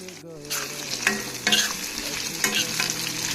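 Chopped onion and tempering spices hit hot oil left from frying potatoes, giving a steady close sizzle with a few stirring scrapes and spikes, no voices.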